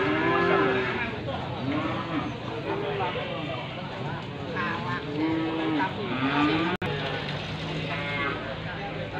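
Cattle at the Wlingi livestock market low and moo repeatedly, several drawn-out calls from nearby cows overlapping amid a busy background, with people talking among them.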